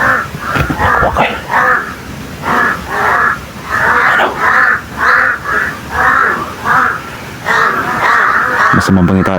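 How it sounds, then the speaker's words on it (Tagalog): A flock of many crows caws loudly and close by, with about a dozen harsh calls in quick, regular succession, one after another, ending in a sudden clatter. "Ang daming uwak tol."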